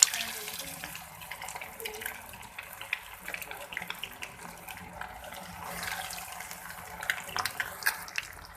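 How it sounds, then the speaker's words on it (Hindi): Potato and egg kebabs fry in hot oil with a fine, steady sizzle, and sharper crackles and pops break through now and then, close by. "ऑयल मेरा गर्म हो चुका है। अब मैं इसमें डालूँगी कबाब को।"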